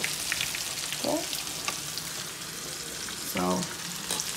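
Steady crackling sizzle of battered shrimp frying in hot oil, with a couple of brief clinks or stirs partway through.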